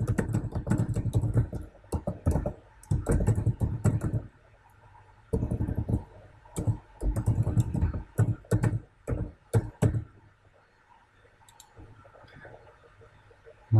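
Rapid clicking keystrokes on a computer keyboard, typed in close, quick bursts for about ten seconds, then sparse taps trailing off into near quiet.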